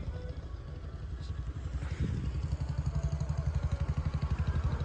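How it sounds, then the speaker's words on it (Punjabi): A convoy of tractors heading to the Khanauri border, a nearby diesel engine thumping in a fast, even pulse that grows louder and steadier as it moves off, with some clatter and a brief voice. "ਲੈ ਵੀ ਮਿੱਤਰੋ ਸਟਾਰਟ ਹੋ ਗਿਆ ਕਾਫਲਾ ਸਭ ਤੋਂ ਪਹਿਲੀ ਗੱਡੀ ਤੇ ਆ ਬੜਾ ਲੰਬਾ ਕਾਫਲਾ"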